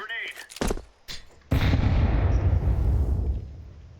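A grenade in Counter-Strike on the Nuke map: a few short clicks and thuds, then a sudden loud blast whose deep rumble trails away over several seconds.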